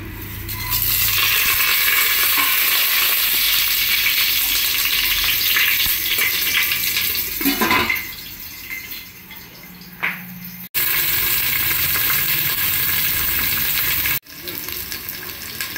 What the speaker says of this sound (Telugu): సో ఇప్పుడు ఆయిల్ అనేది వేడైంది. సో మనం ప్రాసెస్లోకి వెళ్దాము. సో మనం తీసేసుకున్న హోల్ గరం మసాలా ఇందులో వేసేద్దాము.